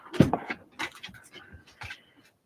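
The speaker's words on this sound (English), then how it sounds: "Yes, puppy, I see ya." A puppy whimpers and pants in a few short, close bursts with brief gaps between them, heard indoors while someone paints mandalas on wooden blanks.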